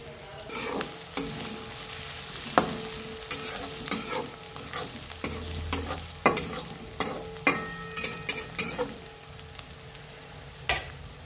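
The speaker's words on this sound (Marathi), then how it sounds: "हे बघा कांदा चांगला आपला लाल झालेला आहे त्यामध्ये हिरवी मिरची टाकून आता आपण" Browned onion and green chillies fry in oil for dal khichdi, a steady sizzle with frequent rhythmic scraping and clanking of a spoon stirring the pan, close and clear.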